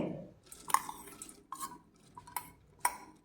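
Washed toor dal goes into a pressure cooker already holding pumpkin pieces, making a few soft, scattered taps and light clinks spread over a couple of seconds, quiet and with no voices.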